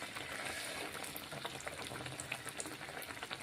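Neyyappam frying in hot oil and being flipped, giving a steady, dense crackling sizzle with tiny popping bursts throughout, close and even, with no voices.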